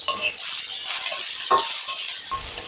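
Chopped onion added to garlic frying in a pan of mustard oil, heard as a steady close sizzle with stirring scrapes and a brief clink of a utensil near the end.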